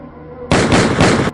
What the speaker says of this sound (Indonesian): Saat pintu dibuka, tembakan menyasar ke arahnya